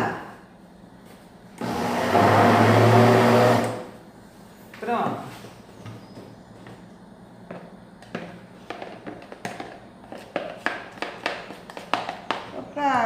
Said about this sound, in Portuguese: vou colocar aqui pouquinha coisa no liquidificador